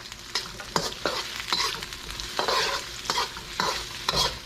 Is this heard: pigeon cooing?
no